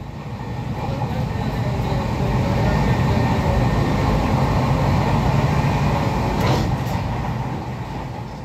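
Poorva Express passenger train pulling into Durgapur station, a steady broad rumble and rolling clatter that swells and holds close throughout, with a brief higher screech near the end.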